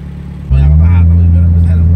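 Honda D16A6 VTEC car engine revving while driving, a loud, steady low drone that jumps up sharply and holds, with a person talking over it.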